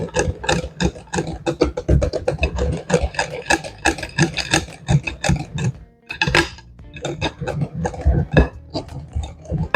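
Eggs being stirred into cheesecake batter in a bowl, with a spoon scraping and clattering against the bowl in a rapid, continuous rhythm and a brief pause midway.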